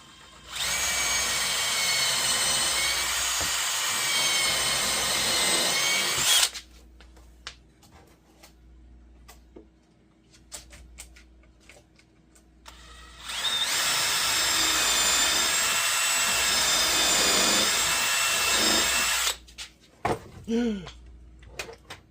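A power drill drives screws into a wooden shelf in two long, loud close bursts of whining motor, separated by quieter handling noises and faint bumps.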